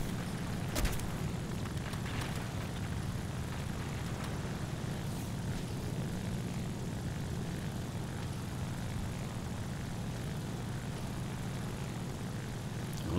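A propeller plane engine drones in an arcade flight video game set in an Era II Japanese scenario, a continuous, even roar with a brief burst early on, alone and without voices.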